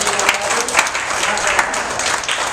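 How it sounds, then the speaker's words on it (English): A room full of people at a school district leadership retreat breaks into a brief round of applause, dense and close clapping that holds steady throughout. "Give yourselves a round of applause."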